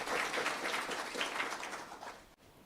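A seminar audience gives a round of applause, a soft, distant-sounding wash of clapping from many hands that stays even, then fades out near the end.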